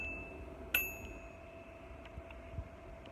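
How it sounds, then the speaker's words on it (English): A small bell on a vintage 1960s Fisher-Price wooden toy fire engine gives a single bright ding that rings out and fades, followed by faint clicks and quiet tapping in a hushed room. "the bell rings"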